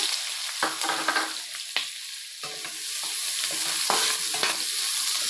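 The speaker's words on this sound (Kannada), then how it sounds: "ಈರುಳ್ಳಿನ ಹಾಕ್ಕೊಂಡು ಎಣ್ಣೆಯಲ್ಲಿ ಸ್ವಲ್ಪ ಬ್ರೌನ್ ಕಲರ್ ಬರೋ ತನಕ ಚೆನ್ನಾಗಿ ಹುರ್ಕೊಳ್ಳೋಣ" Onions frying in hot oil in a pan, a close, constant sizzle broken by repeated scraping strokes of a spatula as they are stirred, with no talking.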